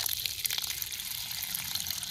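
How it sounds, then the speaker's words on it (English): Water draining out of plastic maple sap line pipes outdoors, a steady broad gushing rush that holds at an even level throughout, with no voices over it. "when the other side fills up, it'll drain out these pipes too."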